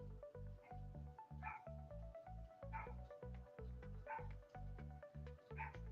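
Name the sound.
dog barking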